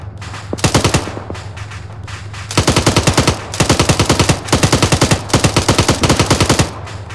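Loud, close machine gun fire aimed at Russian troops in the video game Arma 3, delivered as a series of rapid bursts separated by brief gaps, with no speech.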